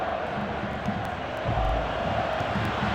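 Stadium crowd at a Fenerbahçe versus Adana Demirspor football match, a dense roar of cheering and applause from many spectators filling the whole moment at steady volume.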